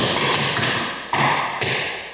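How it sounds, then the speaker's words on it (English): Clogging shoe taps strike a hard floor in a quick step, double, back, scuff, hop pattern, bright metallic clicks in a few close, loud clusters. "you've got step, double, back, scuff, hop, step"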